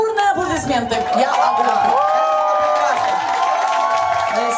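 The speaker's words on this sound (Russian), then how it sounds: "Спасибо эти долгие, продолжительные и бурные аплодисменты" An audience gives long, loud applause and cheering, a dense steady wash of clapping and whoops that holds throughout, with voices rising and calling over it.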